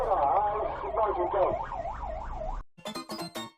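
A loud wailing air raid siren rises and falls in repeated cycles, then cuts off abruptly, followed by a few sharp staccato electronic bursts.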